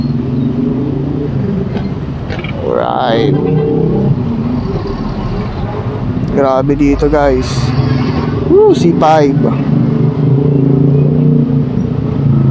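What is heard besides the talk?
road traffic with motorcycles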